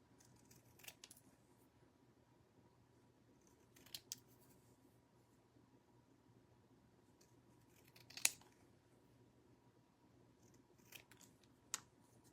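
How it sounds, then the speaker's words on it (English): Scissors snip through thin wood kit pieces for a zinnias and dragonflies quilt block, a few sharp, quiet cuts scattered across a near-silent room with faint background hum. "Y'all probably want to take the scissors out of my hand and say, let me cut those for you."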